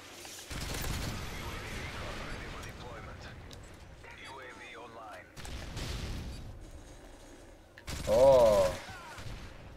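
Gunfire from the video game Modern Warfare 3 in a Demolition match: bursts of rapid automatic shots in several sustained volleys, loudest near the end, with a voice talking over parts of it.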